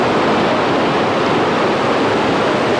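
Iguazu Falls in South America thunders in a dense, unbroken roar of falling water, loud and close, with no voices over it.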